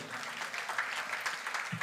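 An audience at a Bible sermon applauds, a steady wash of clapping that holds for the whole moment without a clear peak.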